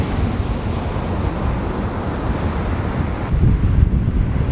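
Ocean waves and wind at a Florida beach, a loud continuous roar of surf with heavy wind buffeting the microphone, swelling slightly near the end, with no talk.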